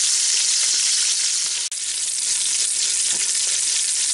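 Steak sears in an Instant Pot with a loud, steady sizzle and frying hiss that continues without a break, cut only by one very brief drop near the middle.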